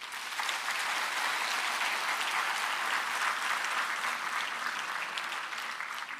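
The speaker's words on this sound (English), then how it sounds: "Let's give them a huge round of applause." Dense, sustained applause from a large graduation-day crowd honouring their lecturers, an even wash of many hands clapping at steady volume for several seconds.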